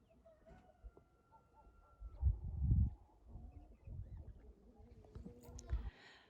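Chickens cluck and murmur in a backyard poultry yard of roosters and hens, with several soft, low bursts of clucking and short calls spread across the moment, fairly faint, over a quiet outdoor background.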